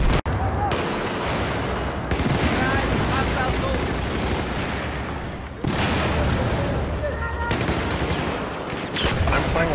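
Heavy gunfire in the video game Battlefield 4, loud sustained machine-gun bursts and shots filling the scene, briefly pausing before resuming, with some talking mixed in.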